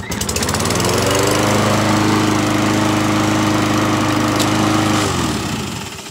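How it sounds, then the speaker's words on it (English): A nearly new Toro 22-inch Recycler push lawn mower starts, its engine catching quickly and running at a steady, loud, close drone for about four seconds before cutting off. "So let's see if it starts."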